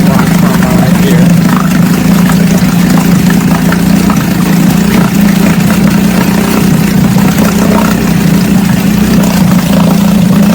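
An Aiqidi 3.5 outboard motor runs steadily at idle, a loud, close, unbroken engine drone with a strong low hum that holds even from start to end.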